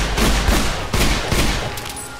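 Rapid bursts of gunfire from a weapon in Minecraft, a dense fusillade of overlapping shots with a few sharper cracks standing out, loud and close throughout.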